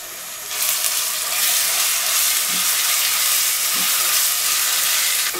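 Ginger and garlic paste frying with onions for a chicken curry, a loud steady hissing sizzle that rises sharply at the start and holds, with a couple of faint utensil knocks.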